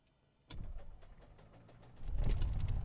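A video-game Piper PA-28R piston aircraft engine cranks and catches after a sharp click, rumbling low with rising intensity toward the end, heard alone without talking.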